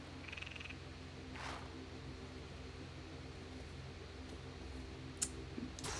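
Frinos, the frog familiar in Hades 2, gives a few faint croaks and clicks against a low, quiet game backdrop, with no voices.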